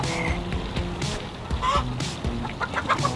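Cartoon chicken clucks and squawks from the Chicken Scream video game app, repeated bursts over a steady backing of game music, fairly loud throughout with no speech.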